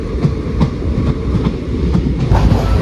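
A passenger train pulls out of Ernakulam Town railway station in the early morning, loud rhythmic clickety-clack of wheels over rail joints with a constant rumbling carriage roar, heard from on board.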